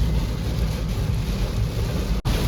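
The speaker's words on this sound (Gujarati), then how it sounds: "બહુ જ વરસાદ છે અહીંયા." Heavy rain pours down with thunder near Surat, a dense, loud continuous roar of rainfall and wind with a brief sharp drop near the end, no voices.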